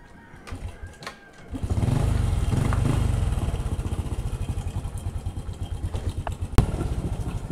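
A Honda XRM110 motorcycle with a clutch problem starts up and runs in a small shop, its single-cylinder engine puttering loud and close in a steady rapid rhythm, with a sharp clank near the end.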